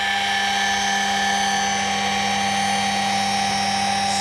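A polishing machine runs steadily while polishing with paste in a cool garage, giving a loud, constant high-pitched whine with a low hum beneath, close and unbroken.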